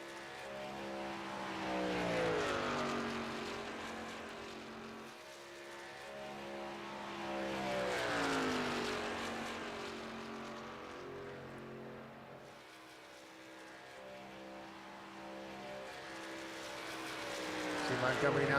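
Race trucks roaring around a superspeedway in iRacing, engine drone swelling and fading as packs pass, steady and moderately loud under a commentator's voice.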